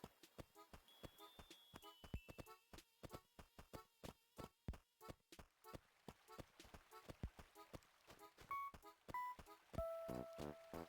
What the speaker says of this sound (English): I was hearing that bug, or there's a bee's nest